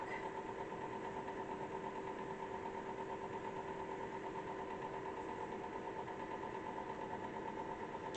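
A sewing machine stitches a fabric quilt block along a marked line with a 1/4 inch seam allowance, running as a continuous, even mechanical hum from start to finish with no pauses.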